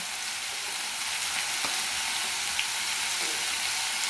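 Brinjal frying in a pan for a spicy vankaya fry, a continuous even hiss of hot oil close up, with a faint knock midway and no talking.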